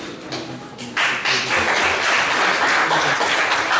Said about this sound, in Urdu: آپ نے کسی موقع پہ تالی بجائی